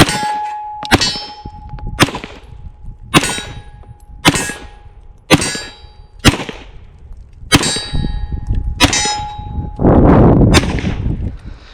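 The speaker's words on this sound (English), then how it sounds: "so now for Mika and Kamani, I'm going to be shooting the Glock 19 here." Glock 19 handgun fired outdoors in basic shooting, eight sharp loud single shots spaced about a second apart, each cracking with a metallic ring, followed by a rustling burst.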